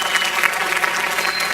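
Audience applause at a live talk on dating advice for teenagers, loud, dense clapping from a large crowd that holds steady for the whole moment without voices over it.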